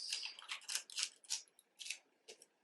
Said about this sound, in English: But right here, I want to cut this.